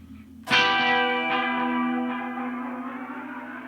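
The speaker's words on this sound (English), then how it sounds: "Like you're increasing the speed of the tape." A strummed 12-string baritone acoustic guitar run through a tape echo effect with its rate raised. A bright chord rings out sharply, then echoes as the repeats smear and shift in pitch, fading slowly in a washy, reverberant tail.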